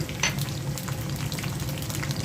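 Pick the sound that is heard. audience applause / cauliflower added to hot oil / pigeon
cauliflower added to hot oil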